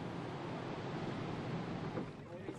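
Powerful ocean waves near a wide jetty protecting a coastal town in Madagascar, heard as a steady broadband wash of surf with wind noise, fairly loud and continuous.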